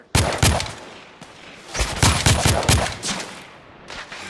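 Bursts of gunfire in the Victorian-era shooter The Order: 1886 crack out in rapid clusters of loud overlapping shots, pausing briefly before another volley rattles on, with no talk over it.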